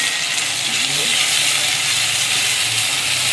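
Ginger, garlic and green chilli paste frying with onions in a pan gives off a steady, close, bright hiss of sizzling that holds evenly from start to finish, with no voice over it.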